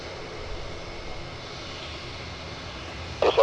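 Royal Air Force Airbus A400M Atlas turboprop aircraft taking off, a steady broad roar of engine noise held at constant loudness throughout, with a brief louder burst at the very end.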